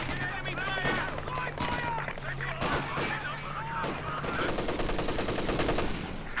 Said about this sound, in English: He's brought out the MG34 to try and suppress some of those infantry that have been chaotic to him.